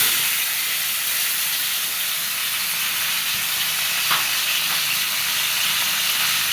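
Chopped green chillies with cumin seeds sizzle steadily in hot oil in a pan, producing a continuous loud hiss throughout.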